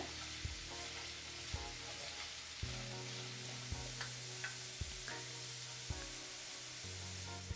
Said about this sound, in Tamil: நல்லா உருளைக்கிழங்கு வேகிற அளவுக்கு வதக்கிக்கோங்க.